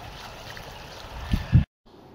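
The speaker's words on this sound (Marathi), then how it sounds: "हे आहेत छोटे धबधबे" A small waterfall at Bhivpuri runs as a steady, faint wash of flowing water, broken near the end by a couple of low thumps before the sound cuts out briefly.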